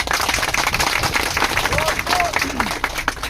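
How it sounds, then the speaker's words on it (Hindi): A crowd at a political rally speech on the Bru settlement claps in steady, dense applause close by, continuous for the whole stretch with a few faint whistle-like tones rising over it. "आप लोग ताली मारेगा"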